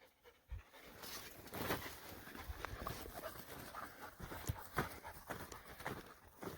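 A dog pants steadily while fetching a shed antler in the Utah desert, the rapid breaths running close and continuous alongside rustling footsteps on the ground.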